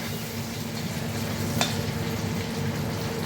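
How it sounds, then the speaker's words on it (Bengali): Chili and curry leaves fry in a pan, a steady close hiss and crackle of hot oil with one brief sharp pop midway, no talking. "লঙ্কাটা একটু ভাজা হলে এই কারি পাত্তিগুলো দিয়ে দিলাম।"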